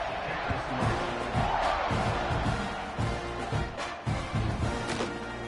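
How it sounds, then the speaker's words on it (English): A football stadium crowd buzzes after a score in a game against Utah, a broad murmuring roar with scattered thumps and cheers, while a commentator's voice runs over it. "this crowd is buzzing after that last score"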